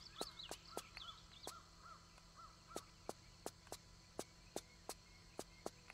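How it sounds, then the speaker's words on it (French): Birdsong echoes inside a temple in the video game Tomb Raider 3: light chirping calls fill the first couple of seconds, then a steady run of sharp clicking footsteps continues alone at a moderate level. "c'est d'entendre le chant des oiseaux alors qu'on est à l'intérieur d'un temple de fous"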